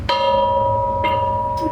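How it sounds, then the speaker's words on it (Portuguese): An old Sorocabana railway departure bell at a railway museum in Sorocaba is struck three times, each loud, close, metallic clang ringing on with a long sustained tone. "Vou até bater o sino aqui para cuidado com o ouvido aí."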